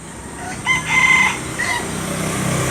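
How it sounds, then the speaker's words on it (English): A rooster crows once in the background on a street in Vietnam, a long drawn-out call rising and holding before trailing off, amid steady outdoor ambience. "You can hear the rooster in the background."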